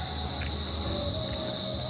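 Crickets chirp steadily outdoors at a cozy place in Cavite, a loud, continuous high-pitched trill near the listener, with faint low background rumble beneath.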